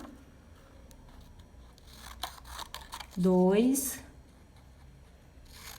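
Scissors snip the corners off a paper square: a few quick, close cuts, with a person counting aloud in between.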